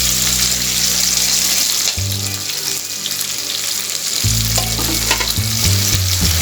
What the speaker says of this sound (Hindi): अब हम बारीक कटी हुई कैप्सिकम और हरी मिर्च को डाल देंगे।